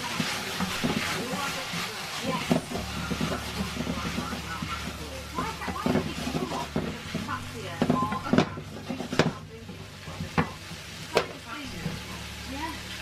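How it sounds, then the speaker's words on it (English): Jackfruit simmering in vegetable stock in a pan gives off a continuous sizzle and hiss, with intermittent clinks and stirring knocks, and a voice talks over it at times. "It's in vegetable stock. It's just sizzling away."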